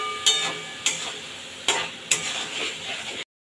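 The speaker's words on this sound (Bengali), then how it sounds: "এবার ভালোভাবে কষাবো, কষাতে কষাতে যেন আলুটা সেদ্ধ হয়ে যায়" Potatoes stir-fried in a pan with chilli powder, turmeric and salt mixed in water, for a pointed gourd and prawn curry: steady close sizzle with a few sharp spatula scrapes against the pan, no voices.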